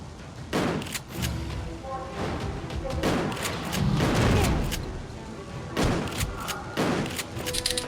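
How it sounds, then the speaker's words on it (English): Shotgun blasts in Resident Evil: The Darkside Chronicles, several loud booming shots spaced irregularly amid game sound effects and music, with a voice talking briefly. "What if I use a shotgun?"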